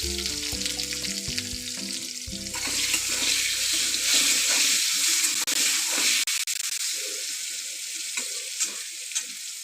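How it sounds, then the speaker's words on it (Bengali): Eggplant pieces with a little turmeric and salt fry in hot oil for a mixed vegetable dish, a loud continuous hissing sizzle close up, with occasional stirring scrapes and no voices. "আমার বেগুনটা লাল লাল করে ভাজা হয়ে গেছে।"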